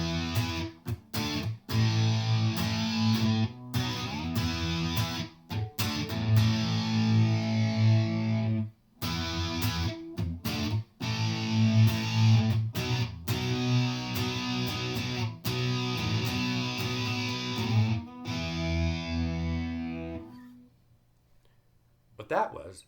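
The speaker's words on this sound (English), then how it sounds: "I'm going to throw the distortion on here" An electric guitar played through a heavy distortion effect, one chord shape slid up and down the fretboard. Thick, loud strummed chords sound in bursts with brief stops, then ring out and fade near the end.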